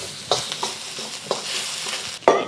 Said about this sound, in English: Adding my ginger and my garlic. I'm gonna let this cook for a minute.